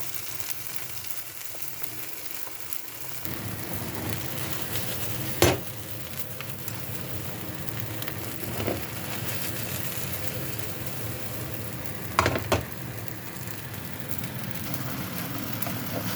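Food frying in a pan after more oil is added: a steady, moderate sizzle that gets louder after a few seconds, broken by a few sharp clinks of a utensil against the pan.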